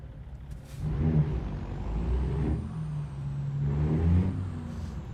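A heavy truck engine in American Truck Simulator rumbles deep and loud from inside the cab, swelling and easing in two long pulls as revs rise and fall, with a hiss near the start.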